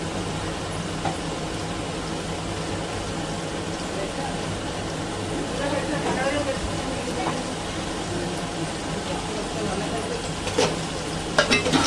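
Garlic, onions and cumin frying in hot oil make a steady, close hiss and crackle that runs throughout, with a few stirring scrapes and a voice talking over it.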